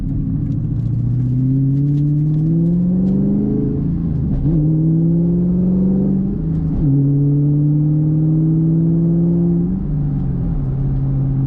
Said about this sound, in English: Great acceleration in this Mustang.